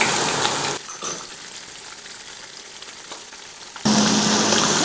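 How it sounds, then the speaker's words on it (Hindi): Quail fry in hot oil in a pan, a loud broadband sizzle at the start and again at the end with a quieter, duller stretch between, close up and with no talk. "देखिए बटेरे अंदर से भी अच्छे से फ्राई हुए हुए हैं और दोनों तरफ से भी फ्राई हुए हैं।"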